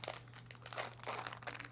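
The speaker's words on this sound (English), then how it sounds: "So you have a square package like this and just cut them open." A square plastic tofu package is cut open, giving short, faint crinkling and crackling bursts of plastic over a low steady hum.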